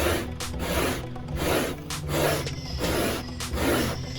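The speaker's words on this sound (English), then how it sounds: "Now we're going to go ahead and show you the rubber brush, and with that you can use the bristle side or the flat blade side." A rubber pet-hair brush scrubs dog hair from car carpet in repeated back-and-forth strokes, giving a close, rough rubbing and scraping sound in an even rhythm of roughly two strokes per second.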